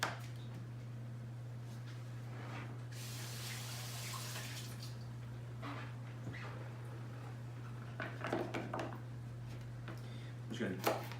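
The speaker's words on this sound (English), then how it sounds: "I'm going to rinse them off real quick first." Vegetables rinsed under a running kitchen tap, a soft steady stream of water with splashes and handling noises over a constant low electrical hum, heard close up.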